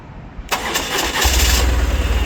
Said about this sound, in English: Bike starts up.